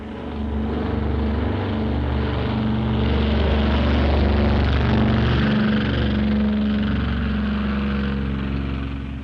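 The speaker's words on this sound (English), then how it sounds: "16 B-25s took off successfully from the Hornet's deck and headed for Japan" B-25 bombers taking off from the deck of the aircraft carrier Hornet, a loud steady roar of piston engines and propellers swelling and holding for several seconds without speech.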